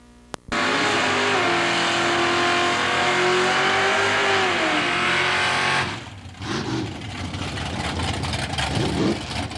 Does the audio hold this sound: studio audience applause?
no